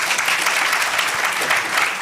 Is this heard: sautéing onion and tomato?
no